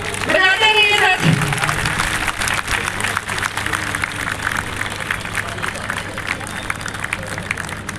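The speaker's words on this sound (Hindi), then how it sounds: "तालियां बजाते रहिए साथी।" Audience applause at a public debt-relief event in Ahmedabad, a sustained bed of crowd clapping with a brief voice and a low hum near the start, continuing steadily throughout.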